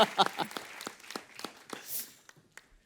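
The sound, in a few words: audience applause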